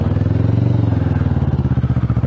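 A Kawasaki motorcycle rolls on a gentle descent toward Bormio, its mid-pitched engine pulsing in a close, steady, throbbing rhythm with a faint clatter.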